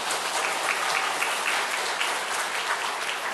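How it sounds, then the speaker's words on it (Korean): An audience claps loudly and continuously for the musical accompanists, a thick, even wash of applause from a crowd close by. "여러분들 힘찬 박수 부탁드립니다"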